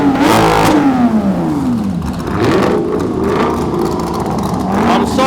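A supercar's engine revs loudly and close by at a supercar weekend at Beaulieu, rising and falling through several throttle blips over steady exhaust roar.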